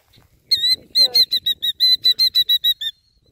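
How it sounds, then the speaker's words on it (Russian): A bird defending its nest beside a reservoir gives a rapid series of about a dozen sharp, high, piercing calls in quick rhythm, loud and close, with faint low sounds beneath. "птичка гнездо свое защищает. Так бедно кричит."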